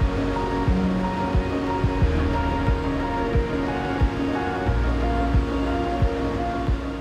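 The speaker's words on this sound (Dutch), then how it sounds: "Er komen straks golven aan die 24 meter zijn." Huge ocean waves, some over ten metres, break at Nazaré, Portugal with a steady heavy roar of surf and deep rumbling impacts repeating every second or so, loud and close, with no voices.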